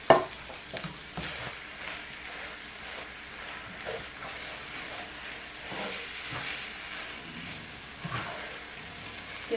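Hormel chili and hamburger meat sizzling and hissing in a pan as they are stirred together, a continuous soft frying hiss with occasional scrapes.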